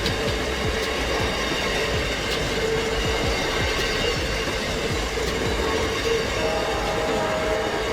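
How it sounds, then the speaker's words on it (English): An electric locomotive train runs steadily past with a continuous rumbling roll and faint rhythmic wheel clatter, a smooth, even sound throughout with no voices. "Electric locomotive. Clean and quiet, this train runs on electricity"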